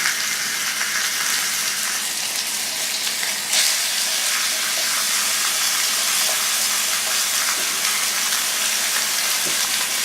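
Seasoned chicken pieces sizzling and frying in a skillet, a steady loud crackle and hiss that continues throughout with no talk.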